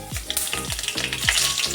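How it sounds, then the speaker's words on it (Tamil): Fenugreek seeds sizzle in hot oil for a Vatha kuzhambu tempering, a steady bright crackling hiss that continues throughout, with a few soft low thumps recurring at regular intervals beneath it. "எண்ணெய் சூடு வந்துடுச்சு. வெந்தயம் போட்டுக்கோங்க தாளிப்புக்கு."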